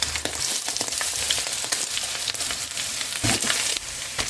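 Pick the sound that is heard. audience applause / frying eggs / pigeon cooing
frying eggs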